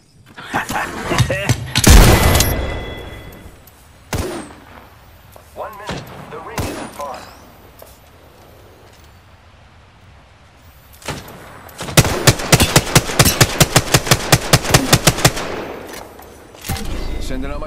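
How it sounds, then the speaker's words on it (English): Rapid enemy gunfire in Apex Legends: sharp loud shots and an explosive blast early, scattered single reports, then a fast automatic burst of evenly spaced shots, with a voice talking at times. "The enemies are shooting at me."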